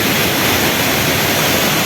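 Mae Klang waterfall on Doi Inthanon in Thailand pours in a constant, heavy rushing roar, close and even throughout, with nobody speaking.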